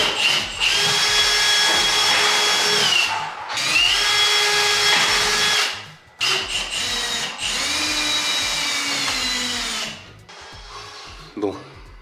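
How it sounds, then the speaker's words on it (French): Power drill boring through wood into drywall to widen holes for molly anchors, a loud whining bursts of drilling with short pauses between them, pitch sagging as the bit bites, then a final brief burst. "je vais percer plus gros pour pouvoir emmancher mes chevilles mollies"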